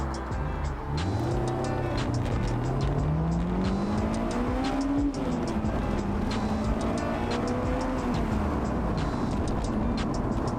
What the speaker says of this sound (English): Alright, so I'm going to do a first gear launch.